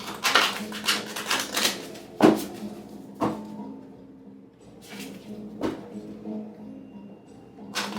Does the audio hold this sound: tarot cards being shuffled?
yes